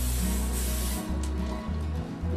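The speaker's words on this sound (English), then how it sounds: "we're going to grease that down with some butter spray" Butter spray hisses steadily from a can onto a cookie sheet in one continuous close burst, with a low rumbling pulse running underneath and no talking.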